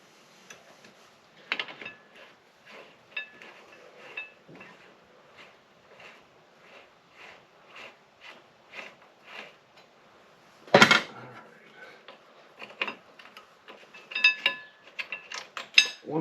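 A wrench loosens and removes bolts from the front brake of a Honda CB750 during teardown, giving a long run of small, soft ratcheting clicks with a sharper metallic clank midway, close and quiet, with no talking.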